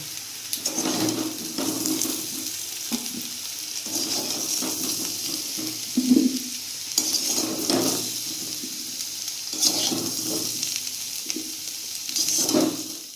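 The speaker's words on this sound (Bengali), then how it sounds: "আলুটা সুন্দর করে ভেজে নিয়েছি এবার তুলে নেবো" Potatoes frying in a pan for a Bengali potol chingri dish, a continuous watery sizzle with periodic louder bursts as pieces are moved, close and without speech.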